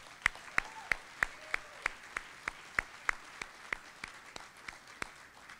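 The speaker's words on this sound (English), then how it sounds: "Let's give them a round of applause." A banquet audience applauds senior student athletes at a sports banquet; sparse, fairly quiet clapping with a few distinct sharp claps standing out in a regular rhythm against softer background patter.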